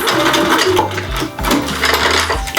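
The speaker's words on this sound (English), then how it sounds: "back stitch a couple of times" A sewing machine runs short back-and-forth bursts as it back stitches a dress seam, its steady motor whir loud and close with brief pauses and no talking.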